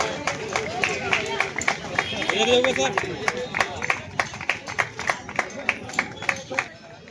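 Crowd at an Aam Aadmi Party rally in Solapur clapping in sharp, regular bursts that build into steady applause, with a speaker's amplified voice and crowd murmur underneath.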